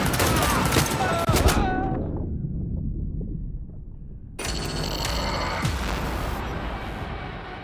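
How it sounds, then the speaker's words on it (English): Gunfire in the video game Cyberpunk 2077, a burst of rapid shots with ringing metallic tones, then a sudden cut to quieter rumble before loud dense game noise resumes. "They're opening fire!"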